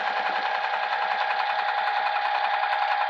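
A sewing machine stitches through quilting vinyl in a steady, rapid, even whir at close range, running continuously with no talk.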